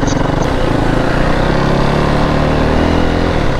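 A KTM Duke 790 motorcycle fitted with a Remus exhaust roars at steady high revs while riding on the road, the engine loud and continuous, mixed with wind rush.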